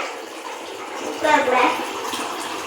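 Water is poured from a tumbler into a pot of tomato rice, a rushing, splashing gush that swells in the middle, with a voice faintly present.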